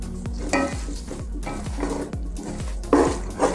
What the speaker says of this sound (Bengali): পেঁয়াজগুলো দিয়ে একটু নাড়াচাড়া করব